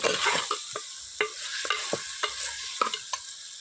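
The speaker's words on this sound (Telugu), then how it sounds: "వేసుకొని మొత్తం మసాలా కలిసేటట్టు ఒకసారి తిప్పుకోవాలి" Masala is stirred into mutton curry in a village-style pot, giving repeated scraping strokes of the spoon against the pan over a soft, steady sizzle, close and fairly loud.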